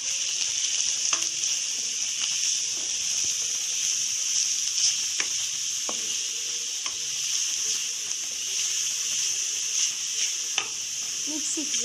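Carrot rice fries in a pan while being stirred, a steady close sizzle with scattered scraping taps from the utensil, without speech.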